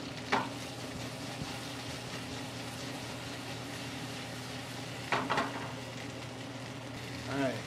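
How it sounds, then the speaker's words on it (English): Garlic cloves frying in an oiled pan give a steady, soft sizzle throughout, with a few brief clatters of stirring or pan handling along the way. "Wait till I hear a sizzle on these."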